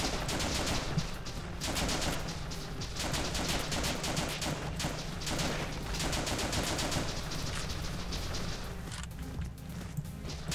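Rapid rifle fire from a G36 in the video game The Legend of Alfur rattles on almost without pause, with dense bursts of shots over a constant background of game noise.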